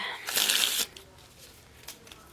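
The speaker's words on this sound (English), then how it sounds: "2 more shuffles" Small tarot cards riffled in a quick shuffle, a short burst of crisp flapping followed by a faint tap or two as the deck settles, close and fairly loud.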